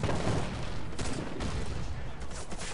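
Rapid sustained automatic fire from an M99AS submachine gun in the Warface video game, a dense continuous loud burst of gunshots throughout.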